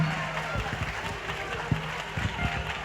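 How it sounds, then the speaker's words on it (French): An audience at a Miss University Africa pageant in Guinea applauds a contestant, with a brief, moderately loud burst of clapping and crowd noise filling the space. "on l'applaudit s'il vous plaît, soyez humbles."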